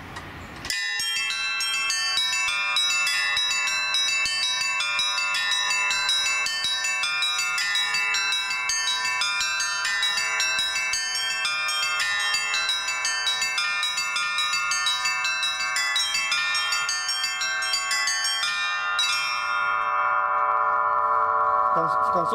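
Church bells from the Litex and Shuvalov foundries ring in a Pskov-style chime, a dense, continuous peal of overlapping strikes that holds steady and loud before a single sustained tone rings out and decays at the end.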